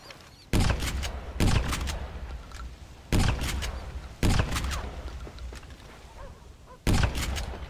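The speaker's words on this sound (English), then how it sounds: "Not a very good rabbit gun at that distance." Five loud, sharp gunshots ring out from a rifle in the Red Dead Redemption video game, spaced a second or more apart, each followed by a long echoing rumble that fades into outdoor ambience.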